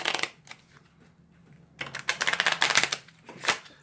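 Crisp bursts of riffling paper, like a deck of cards being shuffled, come in two quick flurries separated by a short pause, close and alone.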